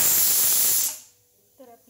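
A pressure cooker on a gas stove vents a loud, steady hissing whistle of steam that cuts off abruptly about halfway through, leaving quiet kitchen sounds and a faint brief voice after.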